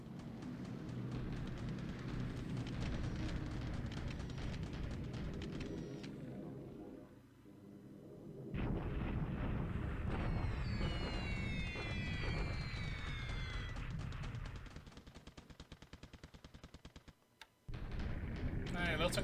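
Bombing explosions and heavy rumbling from a World War II strategy video game set over Perth, continuous dense booms and roars filling the mix with a brief drop and silence near the end.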